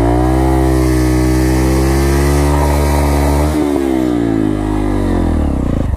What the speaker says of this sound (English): Burnout is a go.